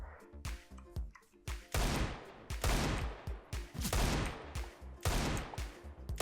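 Gunfire in the video game CS:GO, loud and close, with repeated sharp shots and rapid bursts in an uneven rhythm throughout, and no talking.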